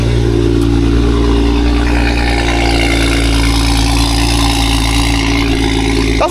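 An old BMW engine idles after a cold start, giving a loud, steady, close-up drone that holds even throughout with no pauses.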